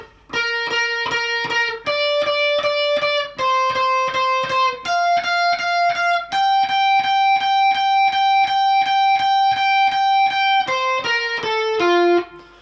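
A distorted electric guitar slowly plays the whole build of a meme tune: steady, evenly spaced picked notes, each pitch repeated several times before moving on, with a long stretch of repeats and a short descending run at the end.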